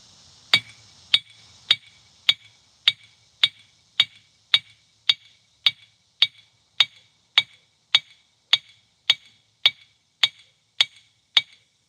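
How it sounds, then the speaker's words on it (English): Steady, evenly spaced hammer strikes on hot metal ring out one after another, about twenty sharp clangs on an anvil at a forge, close and loud with no talking. "using your hammer half on and half off the anvil"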